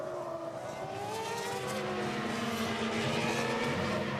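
A 2005 Formula 1 car driven by Ralf Schumacher, revving to warm its tyres on the formation lap, a steady high engine whine rising and falling in pitch, continuous and moderately loud at a distance.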